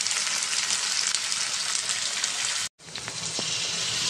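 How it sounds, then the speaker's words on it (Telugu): Onions and green chillies fry in oil for a chicken leg curry, giving a steady, loud sizzle that cuts out briefly near the end, then returns with a few faint clinks. "నూనె వేసారు, మంచి నూనె, తర్వాత ఉల్లిపాయ పచ్చిమిర్చి వేస్తున్నారు. అవి కొంచెం మగ్గాలి"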